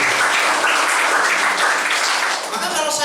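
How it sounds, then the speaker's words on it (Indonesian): A church congregation bursts into loud, sustained applause and cheering that fills the whole stretch, dense and close, with no speech over it. "Berikan tepuk tangan yang meriah."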